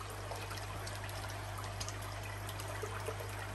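Water pours steadily from a koi pond filter back into a fry tank, a constant close splashing trickle over a low mechanical hum, with no pauses or voices.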